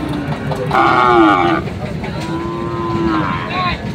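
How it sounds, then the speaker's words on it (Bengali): Two loud, drawn-out cattle moos close by, one after another, over a busy background murmur of a crowded livestock market in Bangladesh selling Sahiwal bulls and calves. "দেখি আমরা এখানে বেশ কিছু গরু আছে"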